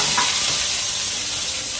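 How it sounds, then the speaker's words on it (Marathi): Mustard seeds, asafoetida and curry leaves sizzle in hot oil on a tava, a loud, steady hiss of frying that fills the whole clip with no voices. "आता इथे मी मस्त तवा गरम करत ठेवला आहे, त्यात तेल टाकलं आहे. त्याच्यामध्ये मी टाकलं आहे मोहरी, हिंग, कढीपत्ता"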